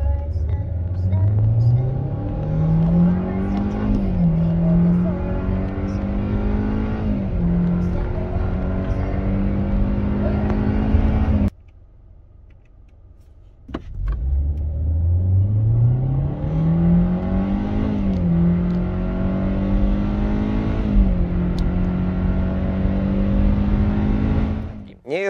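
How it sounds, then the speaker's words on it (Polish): A Hyundai Elantra with a naturally aspirated 1.6 MPI petrol engine and CVT revs up loudly and steadily, its drone climbing, briefly cutting out, then rising again in a second long pull. "Jest to bardzo mocny silnik, nie jest to oczywiście silnik turbo doładowany"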